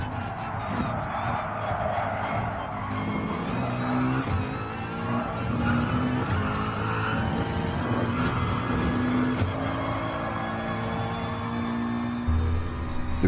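Race car engine in Gran Turismo Sport at Interlagos, revving steadily on a fast lap, with rising and falling pitch through gear changes and corners, continuous and close.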